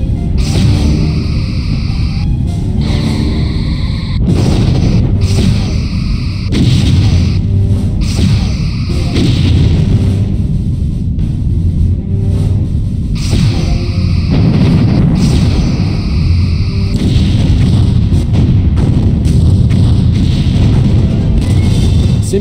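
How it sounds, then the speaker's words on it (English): Space battle in a video game as a Korelev class starship destroys a Ferengi cruiser, with a loud sustained wash of weapon fire and explosion booms pulsing throughout, under faint game voices. "simulated enemy ship has been destroyed"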